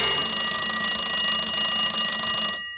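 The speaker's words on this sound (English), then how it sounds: "That's an emergency alarm system that means somebody wants a policeman in a hurry." A police emergency alarm (hotshot) in a radio drama rings as a loud, steady, high-pitched electronic tone that holds for over two seconds and then cuts off abruptly, with no voices.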